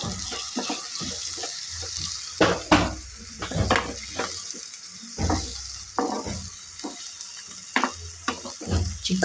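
Spice powder being stirred into a bitter gourd stir-fry in a small pan, with repeated scraping and clattering strokes over a soft sizzle, uneven in rhythm and close by.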